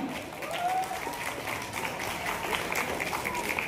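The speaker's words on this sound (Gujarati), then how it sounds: "તાળીઓથી કરો એમનું સન્માન." An audience applauds at a student award ceremony held by a youth development association in Anand. The clapping is steady and crowd-wide and lasts the whole stretch. A voice is faintly audible beneath it.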